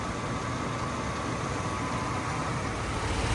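Chevrolet Tahoe with a high-output alternator idling, a constant dense broadband rumble and hiss with no change in pitch or level, steady and close throughout with no voices.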